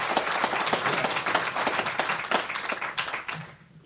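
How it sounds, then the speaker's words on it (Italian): Audience applause for guest speaker Mario Ridolfi at an evening talk in Villanuova sul Clisi: a dense, steady wash of clapping that fades out toward the end. "Mi invito a fare un applauso a Mario Ridolfi"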